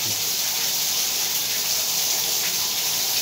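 Water rushes steadily from a pipe on a water heater tank, a continuous broadband hiss and gush close by with no pauses.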